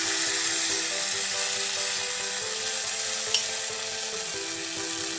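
Beef steaks frying in a pan for bistec encebollado, a loud, continuous close-up sizzle with a steady hiss and one brief sharp crackle partway through.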